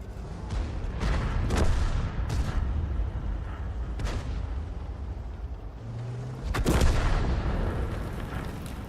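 Enemy artillery fires in a tank battle video game: several heavy, booming blasts land a few seconds apart over a constant low rumble of engine and battle ambience, with no voices.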